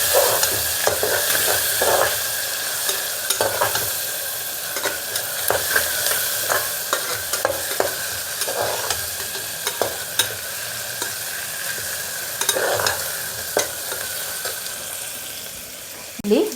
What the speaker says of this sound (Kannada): ಅದೇ ರೀತಿ ಬೆಳ್ಳುಳ್ಳಿ ಮತ್ತು ಶುಂಠಿ ಇದನ್ನು ಕೂಡ ಹಾಕ್ತಾಯಿದ್ದೀನಿ. ಎರಡು ಕೂಡ ನೀಟಾಗಿ ಕಲಿಸ್ಕೊಳ್ಳೋಣ.